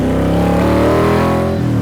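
A small-block V8 car engine accelerating hard, a loud close continuous rumbling roar with steadily rising pitch and a brief dip near the end like a gear change.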